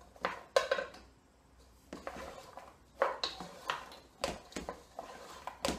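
Onion and green pepper are stirred in a pan with a utensil, giving a series of quiet, irregular scraping and clinking strokes against the cookware at close range.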